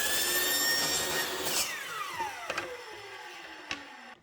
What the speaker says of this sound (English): I'm going to set it flat and do a flat cut right where that miter stops